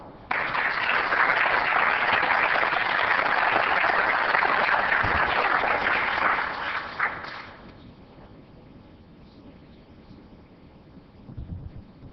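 Audience applause fills a city council meeting in Oceanside, loud and steady for about seven seconds before it tapers off into a quiet room.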